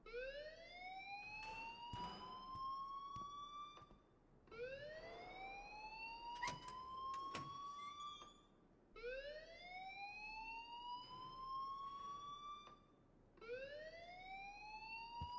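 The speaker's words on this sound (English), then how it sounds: "please turn off that alarm since that's your job" A school fire alarm in the video game Life is Strange wails in rising sweeps that repeat about four times in a steady cycle, faint and distant, with a few clicks between them.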